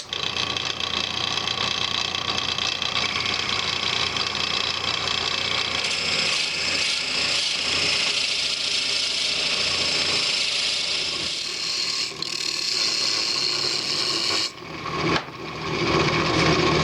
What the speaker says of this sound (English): So I only have to drill down enough to fit that. So I'm going to turn my lathe speed down